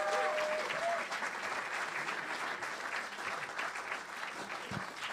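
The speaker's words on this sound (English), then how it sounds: "applause, Colin Broderick." Audience applause greets Colin Broderick at an Irish music gathering, the St Louis Tionol, as a sustained crowd clapping, fairly even and moderately distant, with a brief tonal sound near the start.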